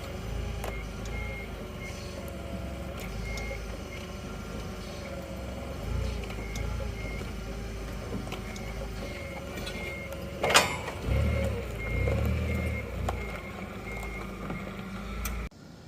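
A forklift reverses in a work yard during hydraulic line repair on a backhoe, its backup alarm beeping in a steady repeating rhythm over engine rumble, with a sharp clunk and mechanical noise late on.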